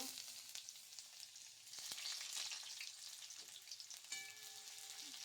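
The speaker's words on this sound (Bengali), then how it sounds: "অল্প তেলে আমি এগুলো আগে ভেজে নেব পনিরটা দিয়ে" Paneer frying in a small amount of oil in a pan, a soft continuous hiss and sizzle that swells slightly partway through, quiet and close with no voices.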